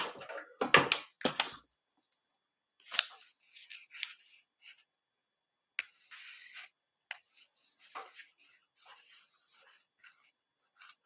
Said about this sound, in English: Let's cut all of our little jump stitches.